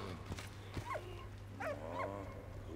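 A dog in the World War I video game Valiant Hearts: The Great War barks and whimpers, giving a few short high yelps and whines over a steady low game hum, fairly quiet.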